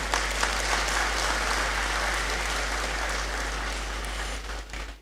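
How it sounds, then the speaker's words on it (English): Applause from a graduation congregation audience in a great hall fills the space with a thick, continuous clatter of many hands, holding steady before tapering off near the end over a low constant hum. "It's okay to applaud. We can do it better."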